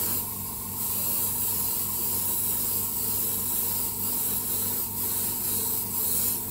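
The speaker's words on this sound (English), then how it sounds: "I'll come back and I'll kind of um, spray over it about halfway" Paint sprays onto the roof of a 1/24 scale model, using SMS paints, as a continuous close hiss that swells and eases slightly with each pass.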